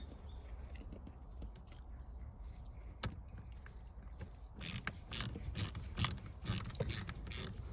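A small clamp in a 2011 Audi A4 steering column is tightened with an Allen key, giving faint, close ratcheting clicks and metallic scraping in short irregular bursts that grow busier toward the end.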